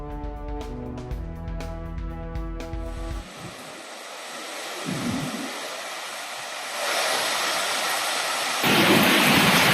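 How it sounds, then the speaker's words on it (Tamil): Heavy rain with thunder in Gujarat state, a steady broad roar of downpour that swells louder in stages, preceded by a few seconds of unrelated tonal music. "குஜராத் மாநிலத்தில் கனமழை"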